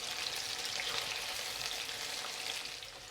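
Calamari squid deep frying in hot oil, a steady, close, dense crackling sizzle that runs unbroken for the whole stretch with no talking.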